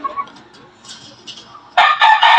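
A fighting rooster crows loudly and close by, a bright, strained call that follows a stretch of quieter background noise.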